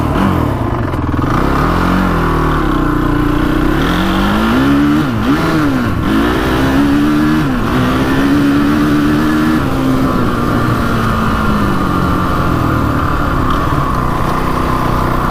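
A Honda TRX450 ATV engine, freshly cured of bogging, revs loud and close, climbing and dropping in smooth throttle sweeps over a steady idle rumble, running consistently without surging or stalling.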